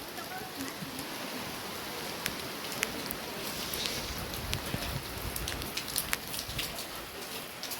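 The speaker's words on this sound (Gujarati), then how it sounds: "આવી રહ્યો છે વરસાદ" Steady rain patters and hisses throughout, with occasional sharper drips standing out; faint voices may be buried beneath the downpour.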